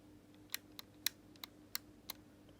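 Sharp, distinct clicks of an Xbox One controller's RB bumper button are pressed six times at a quick uneven pace, close and quiet against a faint steady hum, with no voices.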